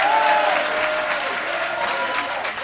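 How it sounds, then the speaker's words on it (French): A church congregation bursts into steady, sustained applause in praise of the Holy Spirit, a dense crowd of clapping hands with a voice briefly rising over it. "Est-ce qu'on peut acclamer le Saint-Esprit?"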